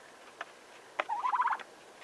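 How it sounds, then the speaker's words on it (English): A turkey gobbles in a snowy run, a faint click then a sharp note followed by a rapid, rolling gobble lasting about half a second, fairly distant against quiet outdoor background. "The turkeys are more venturous than the chickens are."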